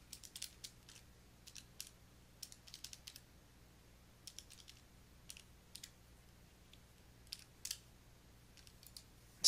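Quiet, clicky key presses on a calculator as numbers are entered for a chemistry equilibrium problem, arriving in short bursts of several taps with pauses between, close by and alone.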